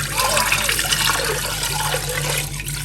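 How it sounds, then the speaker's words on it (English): Water poured into fermented corn dough for kenkey, a steady liquid splash and trickle running close by for a few seconds while a person talks over it. "all that you have to add here is water"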